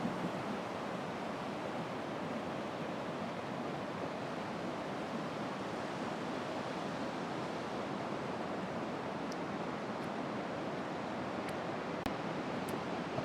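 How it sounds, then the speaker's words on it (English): Sea waves roll in steadily on Whitby beach, a continuous broad wash of surf with no breaks, fairly close and moderately loud, with no voices. "It's lovely to see the waves rolling in."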